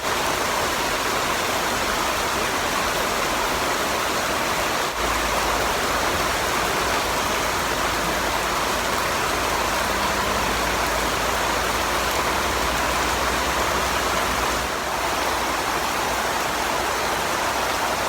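Steady rain falls outside in a continuous dense hiss, loud and even throughout, with a low rumble joining partway through; no one speaks.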